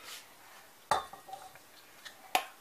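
A spoon or whisk knocks and clinks against a pot while lemon mousse mixture is stirred on the stove, two sharp metallic taps standing out among softer scraping sounds, close and quiet, with no talk.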